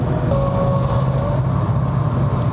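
A car on Kormoran All Season tyres drives through a fast chicane on a test track, giving a loud, constant roar of tyres and road with a steady engine hum underneath.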